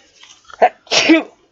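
A single close sneeze: a short sharp inhale catch followed by a loud, breathy burst, heard alone in a quiet room.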